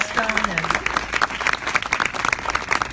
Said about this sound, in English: can we give him a round of applause also for all of the work that